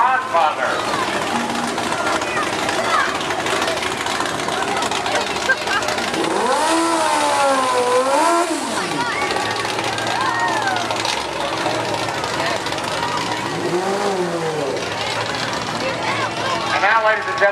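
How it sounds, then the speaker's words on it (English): A parade car in a 4th of July parade in New Boston rumbles and revs its engine nearby, with a few rising revs standing out over a steady idle and a loudspeaker announcer talking throughout. "This car is being driven in the spirit of Dale Earnhardt."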